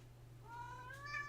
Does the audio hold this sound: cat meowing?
yes